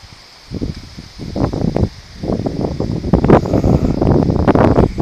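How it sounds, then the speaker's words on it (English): Wind blows steadily outdoors in gusty, rumbling bursts that buffet the microphone, building from a low start to a loud, continuous roar with rustling through most of the clip. "of course the wind's got to pick up"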